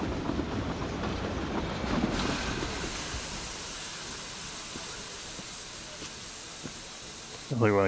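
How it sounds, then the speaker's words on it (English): A train in a video game rumbles and hisses steadily in the foreground, a constant clattering roll with a softer steam-like hiss layered on top, ending with a short tonal chime. "I really want to get on the train right now."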